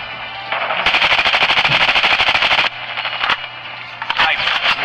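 Rapid sniper gunfire from a Call of Duty match, dense bursts of close, loud shots in quick repeating volleys, broken by a brief gap and then a few more scattered shots.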